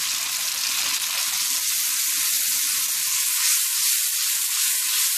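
Bacon garlic pasta sizzles and fries in a wok over a big, high flame. The hiss is loud and steady, close by, and lasts the whole time with no talking.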